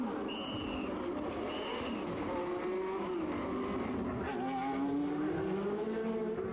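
Racing car crash during the Pau race: a car engine whines and shifts pitch through the replay, with tire squeal heard faintly over a steady roar.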